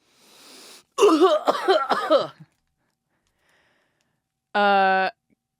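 Brief breathy exhale followed by a burst of harsh, rapid coughing, then a pause and a short vocal sound near the end.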